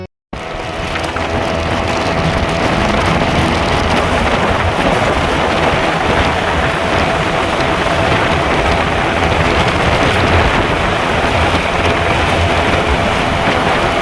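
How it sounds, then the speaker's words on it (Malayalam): Heavy rain during a long motorcycle ride toward Coimbatore, a dense, loud, unbroken hiss that fills the whole stretch, with wind buffeting the microphone. "മഴയാണ്, പക്ഷെ 100ൻ്റെ റെയിൻകോട്ട് കയ്യിലുണ്ട്"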